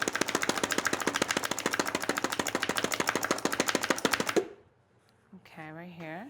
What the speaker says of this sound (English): we're gonna add some garlic in there also. Let's chop that up